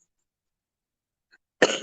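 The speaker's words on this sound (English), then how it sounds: "I still have a cough and a sniffle" A single sharp cough from someone recovering from an illness, bursting out loud and close after near silence and lasting a fraction of a second.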